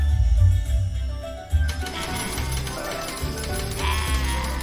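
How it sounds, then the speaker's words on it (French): Gold coins rain down in a cartoon, a dense, continuous metallic jingling clatter that starts abruptly after a brief lead-in and stays loud and steady. "Il pleut des pièces d'or."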